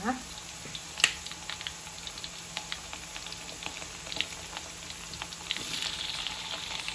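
Squid and petai fry in a pan with a steady low sizzle and scattered pops and clicks, growing a little louder near the end.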